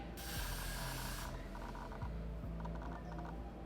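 A short hiss of Got2b hair glue spray on a lace wig in the first second or so, then quieter clicking and rustling handling noises close by.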